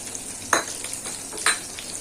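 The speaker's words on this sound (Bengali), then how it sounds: "ভালো করে সব মশলাগুলোকে কষিয়ে নেব।" Ground spices, cumin, chili powder and turmeric, sauté in a pan with a quiet steady sizzle, broken by two sharper scrapes of stirring.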